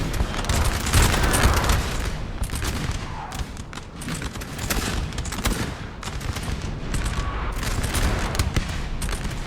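Dense massed musket volleys crackle continuously in a Napoleon Total War battle, a broad roar of overlapping gunfire with sharper bursts throughout, loud and sustained with no talk.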